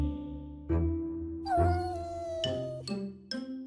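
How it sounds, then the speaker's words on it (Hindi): A cartoon cat in an Urdu Cinderella fairy tale meows several times in quick succession, drawn-out and tonal, close by with no other sounds. "खतरनाक बिल्ली पापू"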